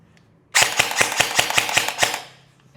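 Semi-auto shots from an airsoft gun: eight crisp, evenly spaced single cracks, close and loud, each a separate trigger pull, with no voices.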